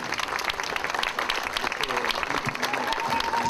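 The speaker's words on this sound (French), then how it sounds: "On peut applaudir." Audience applause at a commemoration before a monument, a steady stream of many people clapping, with voices talking and calling out over the claps.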